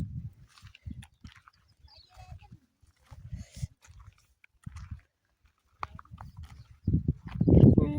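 A horse nearby makes soft, intermittent chewing and thudding sounds in short bursts with quiet gaps, growing louder toward the end.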